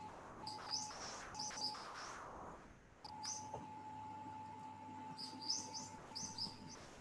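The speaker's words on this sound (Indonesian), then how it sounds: "bisa kita tambahkan, suara-suara burung dan sebagainya" Birdsong added as ambient sound to a virtual reality tour of Kampoeng Heritage Kajoetangan, with repeated bright chirps and tweets in bursts over a steady hum and faint insect-like background, no talking.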